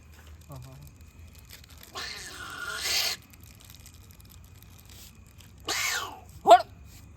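A dog barks in two drawn-out bursts, spaced a few seconds apart, at moderate distance over a quiet background with a sharp click near the end.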